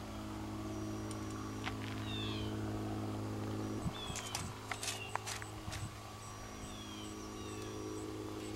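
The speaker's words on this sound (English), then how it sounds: "There's a kitty up by the house." A cat meows a few times from a distance up by a house in an outdoor landscape setting, faint and brief calls over steady low ambient hum and scattered clicks.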